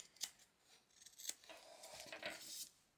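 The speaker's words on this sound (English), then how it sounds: "what we want to do is just trim back, tidy up that seam" Fabric scissors trimming back a sewn seam on a small handbag, a few quiet close snips and blade slides, alone in a hushed room.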